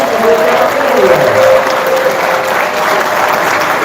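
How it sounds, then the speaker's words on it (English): A ballroom audience at an awards banquet applauds the sponsors, with steady, dense clapping near and loud for nearly four seconds, with voices mixed into the noise. "Everybody, give these guys a round of applause"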